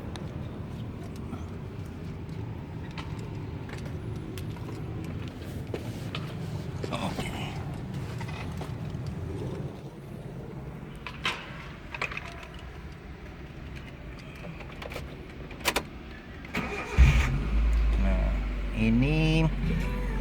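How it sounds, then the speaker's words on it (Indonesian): Smooth, steady engine hum from a 2008 Suzuki APV Arena 1.5 SGX manual, idling with faint mechanical ticking, then a louder burst of noise near the end. "Ini mesinnya masih halus, suaranya juga bisa kedengaran halus"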